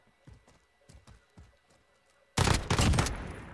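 Burst of video game gunfire in a competitive loser-bracket match, a loud dense volley erupting suddenly after a stretch of quieter, sparse clicking footsteps.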